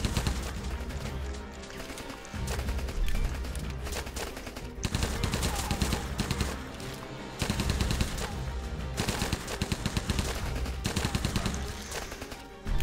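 Loud rapid gunfire bursts from a Rambo video game, machine-gun volleys and repeated shots layered over a dense game soundtrack, continuing almost without pause, with a short lull near the middle.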